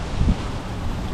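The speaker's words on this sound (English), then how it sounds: "It's cold and windy." Cold wind blows against the microphone outdoors, producing a steady low buffeting roar with a brief stronger gust near the start and no voices.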